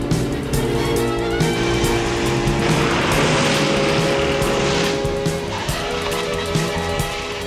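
A car driving fast with tires squealing and skidding, engine roaring steadily while a long screech swells in the middle, loud and close, no talk over it.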